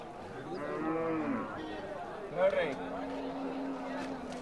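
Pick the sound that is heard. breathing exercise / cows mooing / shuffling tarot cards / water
cows mooing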